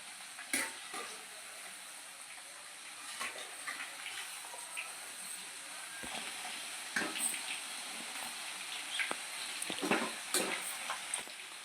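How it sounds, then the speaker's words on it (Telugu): Chicken masala sizzles and fries in a pan while being stirred, with steady close frying hiss and scattered scraping clicks of the spoon against the pan, no talking. "చికెన్ అనేది మనకి కొంచెం డ్రీ ఫ్రైగా వేగాలండి"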